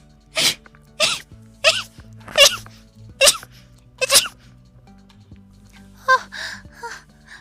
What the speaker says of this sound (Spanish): Ay, voy a estornudar en cualquier momento.